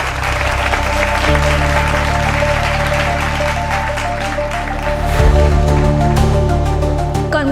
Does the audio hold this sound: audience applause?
yes